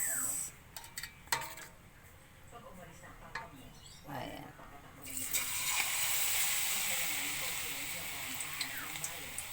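Anchovy fritters (okoy na dilis) dropped into hot oil, a steady broad sizzle and hiss rising about halfway through and holding, with a few utensil clinks and scrapes before it starts.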